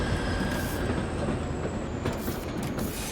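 A train pulling in within the Foundry factory game, a steady loud rumble of rolling wagons with faint wheel squeal and a high whine, continuous throughout with no talking.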